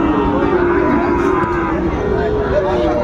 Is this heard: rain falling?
no